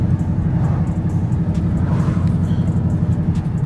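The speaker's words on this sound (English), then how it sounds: "y'all can hear that Mustang" A Ford Mustang's engine rumbles steadily in a low, constant drone from inside the car while driving, no speech.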